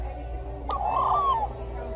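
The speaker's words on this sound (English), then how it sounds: "It chirps." A small toy Ewok creature gives a single warbling, chirpy call lasting about a second, clear over a steady low hum, with no talking.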